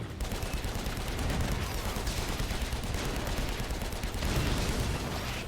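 Tanks fire in the video game AirMech, a dense, continuous volley of rapid gunshots and blasts that stays loud throughout, with a couple of heavier surges near the middle and end.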